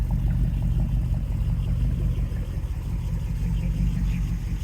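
A 1969 Camaro Z28 with its original DZ302 V8 idles through chambered side pipes in a steady, deep, rumbling burble that stays close and even throughout.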